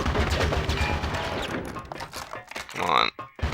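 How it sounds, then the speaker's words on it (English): Turret gunfire in the video game Conker's Bad Fur Day, loud bursts of shots crashing in quick succession over busy game noise, with a voice speaking underneath. "The turret shoots really slow."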